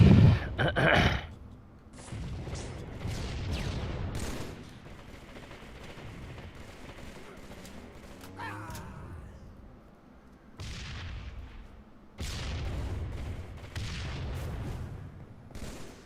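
Heavy gunfire booms from Halo, including sniper rifle shots, with loud reports at the start and again near the end, over a busy match din of explosions and effects.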